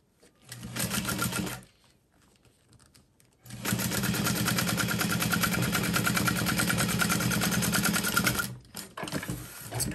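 A sewing machine top-stitches a handbag in two runs, a brief burst near the start and then a long steady stretch of fast, even needle rhythm, close and loud, with no talk.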